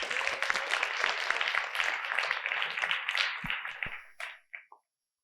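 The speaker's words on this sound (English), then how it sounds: "round of applause for Max" An audience gives a round of applause for Max, dense clapping at a steady level for about four seconds before thinning to a few last claps and falling silent.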